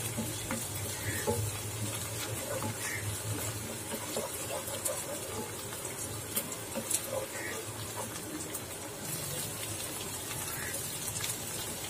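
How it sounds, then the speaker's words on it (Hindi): Ginger garlic paste sautéing in a pan for aloo lababdar, a steady sizzle and crackle with occasional scraping stirs, fairly close, under a voice. "अब मैं इसमें ऐड करूंगी जिंजर गार्लिक पेस्ट यानी के अदरक लहसुन का पेस्ट, ये इसमें सौटे हो जाएगा"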